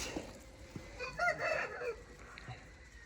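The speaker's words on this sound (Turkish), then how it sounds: "Şunlar da köy tavuklarımızın yayılıyor hali arkadaşlar." Village chickens roaming a garden, a rooster crowing in a mid-distance call amid soft clucks and outdoor ambience.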